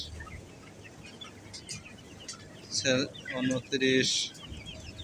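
Chickens inside a controlled poultry shed, soft clucks in the background rising to a few louder close squawks near the end.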